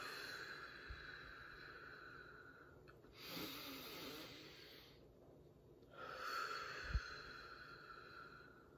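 A slow, deep breath in and then out, close and airy, with a pause between the two breaths, over a faint steady hum and a soft knock.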